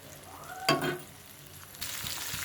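Onions and fresh flat beans frying in oil with salt make a soft sizzle, with a sharp burst of spatter, a brief utensil scrape, and then a fuller hiss near the end.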